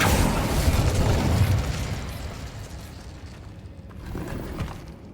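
A fiery Incendio spell blast in Hogwarts Legacy, a loud rumbling burst of flame that roars and slowly fades, then swells again briefly, with no voices over it.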